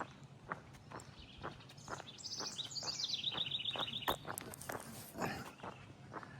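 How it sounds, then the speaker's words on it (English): Birds chirp and tweet outdoors in a residential neighborhood on a late morning, bright calls repeating over a soft background of steady rhythmic thuds. "The birds."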